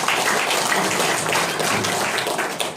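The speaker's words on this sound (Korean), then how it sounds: "여러분 큰 박수로 환영해 주시기 바랍니다" An audience at a March 1st Independence Movement 100th anniversary ceremony gives a loud welcoming round of applause for a saxophone performer. The clapping is dense and steady from start to finish, with only scattered voices underneath.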